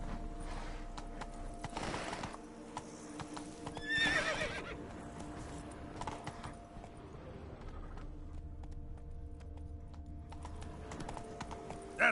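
The horse Roach gallops in The Witcher 3 video game, with rhythmic clip-clop hoofbeats and a whinny near the start, fairly faint against background game sounds.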